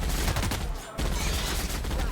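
Gunfire in The Outer Worlds fills the moment with dense, loud, rapid shots, a continuous volley broken by a brief pause before resuming.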